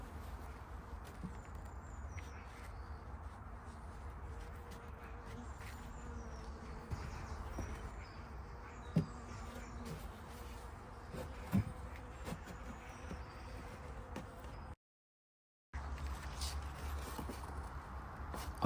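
Honeybee colonies buzz at their hive during a winter varroa treatment with API-Bioxal, a steady low hum with faint flying buzzes close by and no talking.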